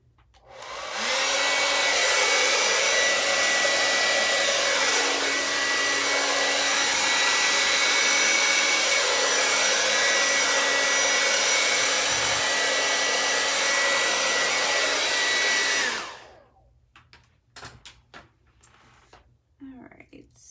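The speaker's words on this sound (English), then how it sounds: "So here's a warning, the hair dryer is about to start." A hair dryer blows across wet acrylic paint during a Dutch pour, a loud steady whir running about fifteen seconds before cutting off abruptly, followed by faint handling noises.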